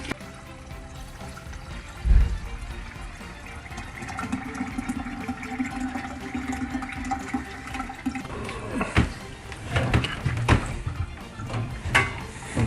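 Water drains from a water heater being replaced, a close, continuous gushing and splashing flow with a heavy thud early on and louder sloshing bursts near the end.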